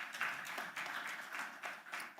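A conference audience claps in soft, fairly distant applause, an even patter of many hands lasting a couple of seconds.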